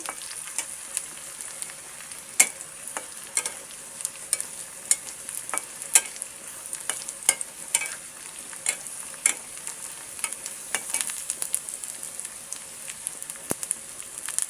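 Onion, garlic and dried chili fry in a pan, making a continuous crackling sizzle dotted with sharp pops and spatters, close and moderately loud throughout with no talk.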